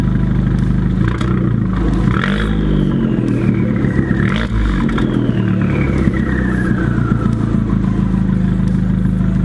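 An Abarth 595 Competizione hot hatch revving its engine, with two sharp rising blips of the exhaust followed by a long falling note as revs drop, a throaty loud rasp with crackle over a steady idle.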